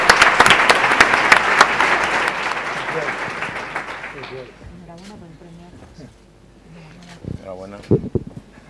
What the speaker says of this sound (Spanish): Un aplauso para los emprendedores, por favor.